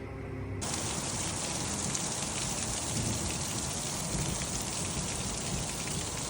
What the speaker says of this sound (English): I got some sprinkles hitting the windows. I mean, it's starting to rain just a little bit here